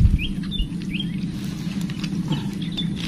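Rain patters steadily during an airgun fishing trip, a soft continuous pattering close by with faint bird chirps over it.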